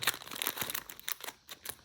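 Foil Pokémon card booster pack crinkling and crackling as it is torn open, a close, busy rustle with short bursts and brief pauses, no voices.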